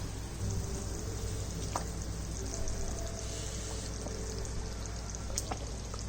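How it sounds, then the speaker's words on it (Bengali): Water pours into a boal fish curry cooking in spiced oil, making a continuous loud rushing, bubbling wash with a sizzling undertone that holds steady throughout, with no voices. "মশলাটার থেকে তেল ছেড়ে দিয়েছে এখন জল দিয়ে দেবো"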